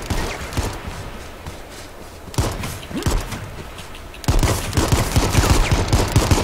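Rapid gunfire in the H1Z1 video game, dense volleys of shots that grow louder toward the end, with no speech over them.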